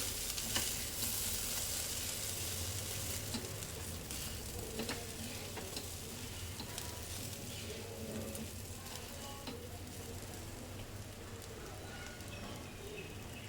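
Ivy gourd curry sizzles in a pan as coriander-cumin powder and red chilli powder are stirred in, making a soft, continuous frying hiss with light stirring.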